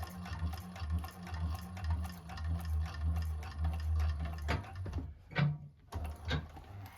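A 1341 cylinder arm sewing machine stitches bag pieces with a steady, close mechanical hum and needle chatter, then stops briefly before a few handling clicks and a restart.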